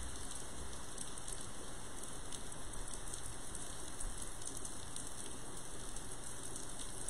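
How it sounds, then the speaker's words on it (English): Rain falls steadily outside, a constant soft patter of drops on surfaces with no pauses, fairly quiet and with no other sounds. "You hear the rain?"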